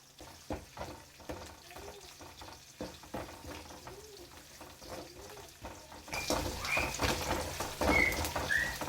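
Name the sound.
crushed garlic and dried red chillies frying in oil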